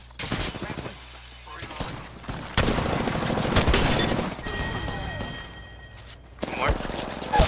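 Gunfire in the battle royale shooter Apex Legends: bursts of rapid weapon fire and booming impacts fill the scene, with a few louder blasts, heard alongside game voice lines and chatter.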